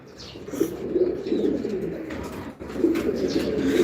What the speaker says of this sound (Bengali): কবুতর ঘরে চলে আসছে